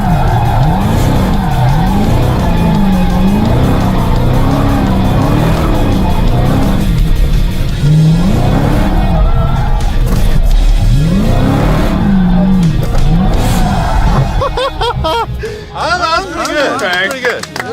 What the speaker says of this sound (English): Doing drifting now.